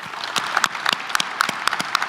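Scattered claps from a small audience at an agricultural awards luncheon honoring young farm professionals, a handful of sharp hand strikes spaced irregularly over a soft background murmur.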